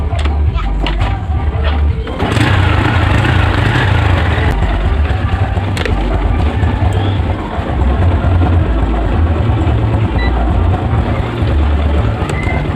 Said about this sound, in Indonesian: Ini dalam keadaan motor menyala ya.